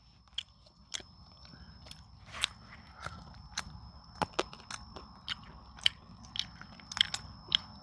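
Close-up chewing and biting while eating rice, with irregular crunchy bites and mouth sounds spaced over several seconds against a low background hum.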